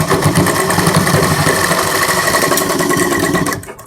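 An electric sewing machine runs steadily while stitching a half-inch seam on a suit's puff sleeve, a close, continuous rattling whir that slows and stops near the end.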